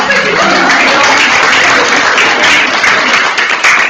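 An audience claps steadily at an indoor women's night event, a dense, sustained round of applause from a sizable crowd lasting a few seconds.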